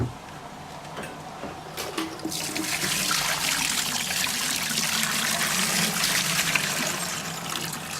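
Dirty water and brass from a Frankford Arsenal stainless tumbler pour into a small fish tank. After a short gurgle the splashing grows into a steady, close rush of liquid and then eases off, with no voices.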